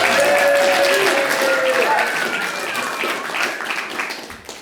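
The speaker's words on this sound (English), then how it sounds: "Everyone give a round of applause for the Puppet Slam." Audience applause at a Puppet Slam show, a dense, loud burst of clapping from a crowd that holds steady and then tapers slightly toward the end, with a few faint cheers mixed in.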